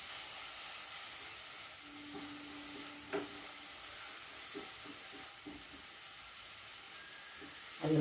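Rice vadai frying in hot oil, a steady soft sizzle and hiss with faint stirring clinks, close and continuous with no talking.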